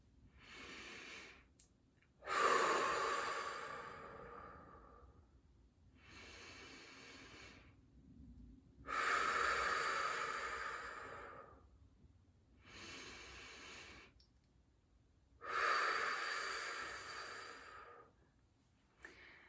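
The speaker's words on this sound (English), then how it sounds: "So, everybody take 3 deep breaths with me." A group takes slow deep breaths together, giving three long, loud airy inhales, each followed by a softer sighing exhale, in an even unhurried rhythm with quiet gaps and no talking.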